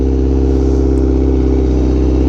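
A Honda Fireblade RRR SP with a full titanium exhaust idles close and loud, a deep, steady, even rumble with a fast regular pulse throughout.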